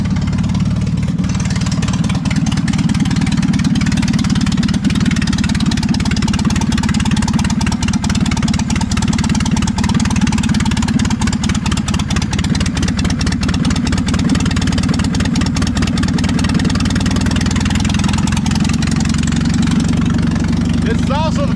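A car engine idling steadily just after a cold start with the air cleaner system newly reinstalled, a loud, even low rumble that carries on unbroken for the whole stretch.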